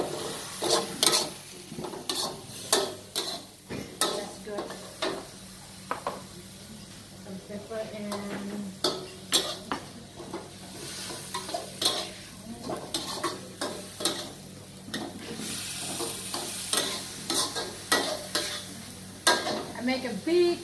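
Pad kra pao is stir-fried in a big, full wok. A spatula scrapes and clatters against the metal in quick rhythmic bursts over a constant sizzle, with a voice speaking at times.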